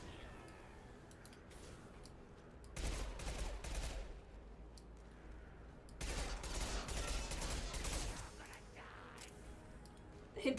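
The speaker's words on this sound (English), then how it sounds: "Somebody's shooting at me from somewhere." Video game gunfire in Mass Effect 2 arrives as two sustained, loud rapid-fire bursts, separated by a quieter stretch of scattered shots and clicks.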